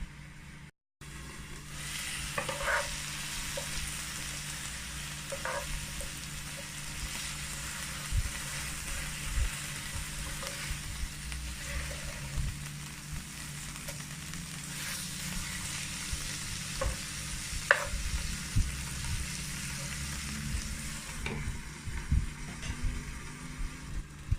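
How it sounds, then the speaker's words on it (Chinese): Chicken breast and vegetables fry in a covered pan, giving a steady, soft, continuous sizzle with occasional faint crackles and no talking. "这鸡肉呢已经煎了大概6-7分钟左右"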